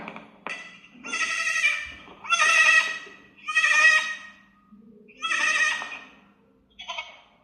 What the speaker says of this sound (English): Let's see how goat makes a sound.